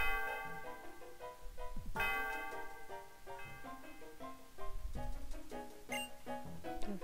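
A bell rings in the video game Pokémon White as a chiming, church-like melody of repeated tolling notes, moderately loud and continuous with no talk over it.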